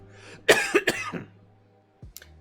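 A short burst of harsh coughs, three or four in quick succession, followed by a brief throat clear after a pause.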